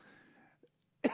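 A single short, sharp human cough bursts out at the end, after a brief stretch of faint speech and quiet.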